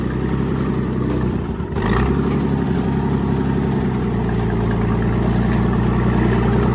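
An Oliver 70 tractor engine chugs steadily as it drives on three flat tires, a continuous loud running note with a brief dip near the start before settling into an even throb.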